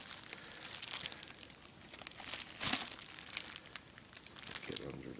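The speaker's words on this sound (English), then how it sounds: "Bag with a taped top here. Got the scissors again." Scissors snip through the taped top of a crinkly plastic bag holding a military surplus Swiss M90 rucksack, with close, continuous rustling and crackling of plastic and a few sharper tearing bursts as it is handled.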